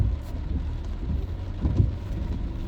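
Steady rain during a city drive along Washington Boulevard, a continuous soft wash of patter with low road rumble beneath, no voices.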